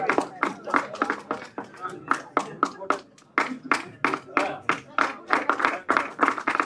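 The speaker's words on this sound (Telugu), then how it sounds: "సన్మానం మీ కరతాళ ధ్వనుల మధ్య" Applause from an audience at a Telugu movie audio launch event for Revu, with sharp claps rising and falling in bursts over roughly seven seconds, with a mixed voice-like texture underneath.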